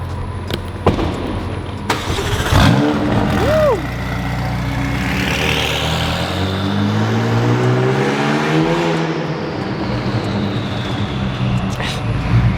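A car is driven in close by, its engine revving up and rising in pitch, then settling into a steady running rumble, with a few voices nearby.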